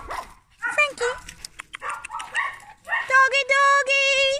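Small Chihuahua or Keeshond dogs bark and yip in quick, high-pitched bursts near the listener, growing into a steady run of barks at the end, with a voice talking among them.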